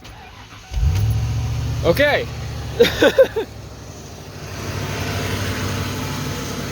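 A 1996 Ford F150 pickup, just fitted with a new starter, cranks briefly and catches, then settles into a steady low idle that continues quietly while someone says a word.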